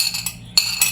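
Metal utensils clink against a bowl as pepper is stirred into garlic-marinated meat: two bright, close clinks separated by a short pause, with no talking.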